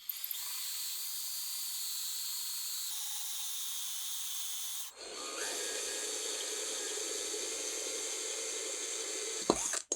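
Tap water runs steadily while wetting a pot before drilling drainage holes, a continuous hiss that shifts to a fuller splashing stream partway through and ends with a brief knock.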